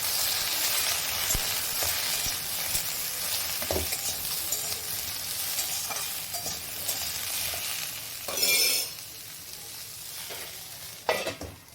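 Pointed gourd (potol) frying in oil in a pan, a steady sizzle running throughout with occasional stirring scrapes and clatters, two louder bursts near the end.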